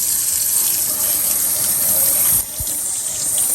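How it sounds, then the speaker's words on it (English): Water poured over hands for rinsing, a continuous steady splashing gush with a brief dip partway through, close and fairly loud. "Let's pour water."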